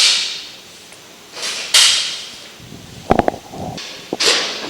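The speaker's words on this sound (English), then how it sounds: "You will start at the top of the jamb liner facing cover and pry out and work your way down to remove." Wooden jamb liner facing cover on a Quaker wood window being pried loose from its nails: scattered scrapes, a sharp crack and a quick cluster of knocking taps, close and sparse with no talk.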